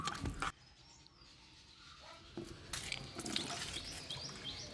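Water is poured onto tobacco leaves to make a pesticide, a close liquid splash and trickle that comes in uneven bursts and then fades to light dripping.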